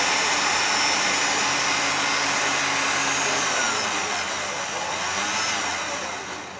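Rotary tool with a 1200 grit sanding attachment run lightly and fast over a fire agate stone, a loud continuous high whine with a broad hissy rush that holds steady and fades slightly at the end, no voices.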